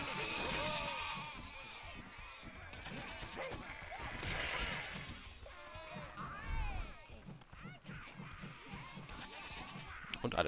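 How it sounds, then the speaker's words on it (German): Repeated sheep bleats from the video game Overlord, several calls scattered among footsteps and game effects, with a person talking over much of it. "jetzt können wir noch ein paar Schafe schlachten"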